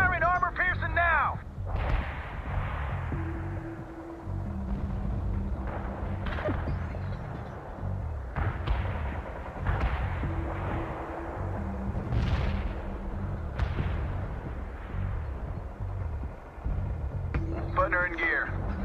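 Tank cannons fire armor-piercing rounds in the World in Conflict video game, sharp booms and cracks scattered across a battle soundscape, heard amid radio-style voice chatter from units.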